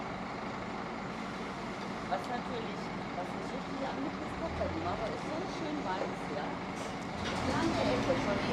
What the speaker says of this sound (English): We got a bus trying to reverse back up.